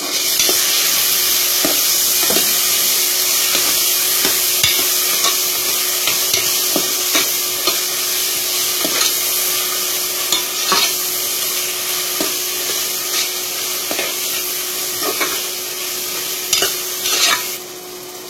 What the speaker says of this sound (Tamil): அடுத்து தக்காளி சேர்த்துடலாம். இன்னும் நல்லா வதங்கட்டும்.